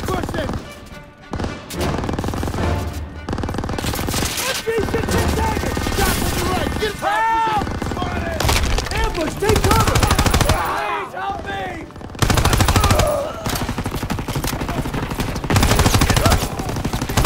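Heavy machine gun fire in the WWII shooter Call of Duty: WWII, set in a street battle. Loud, continuous automatic bursts dominate with brief pauses, mixed with explosions, whizzing rounds and shouted soldier voices.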